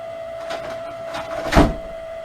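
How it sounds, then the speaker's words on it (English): A door swings open and shut, with faint creaks followed by a single solid thud as it closes, heard over a steady electrical hum. "the door opens and it closes"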